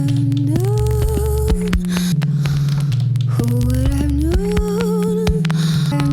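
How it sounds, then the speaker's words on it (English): A warm electronic beat built from crackling electrical static and a deep humming pulse with gliding tones, from a song, playing steadily and fairly loud throughout without any talking. "I absolutely love the sound of that kind of electrical static drum beat."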